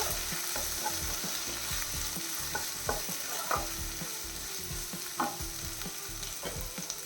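Chopped tomato sautéing in a pan for Kerala-style egg roast, a steady sizzle and fry with repeated spatula stirs and scrapes, close and continuous throughout with no talking.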